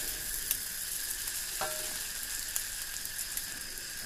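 Kwetiau noodles stir-fried with soy sauce in a pan, a constant close hiss of frying with faint scraping stirs, no voices.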